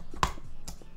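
A Logitech computer mouse clicked twice, two sharp close ticks about half a second apart, the first louder, over quiet room noise with no talking.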